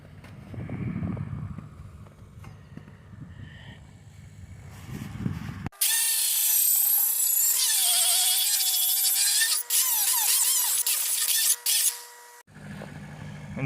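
A power tool polishes a rough weld with a loud, sustained high whine and grinding that starts abruptly and runs for several seconds, briefly dipping twice, between quieter stretches of low rumble.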